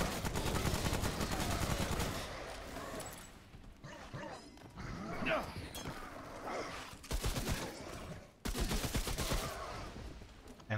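Rapid assault rifle gunfire from Remnant: From the Ashes, dense automatic bursts close and loud, with short pauses between volleys and a brief break near the end.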